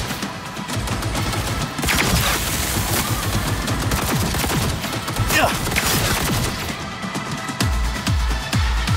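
Shotgun fire in Cyberpunk 2077 Phantom Liberty, a dense run of loud, sharp blasts mixed with heavy combat gunfire and impacts, close and continuous with little pause.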